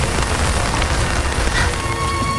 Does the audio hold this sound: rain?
yes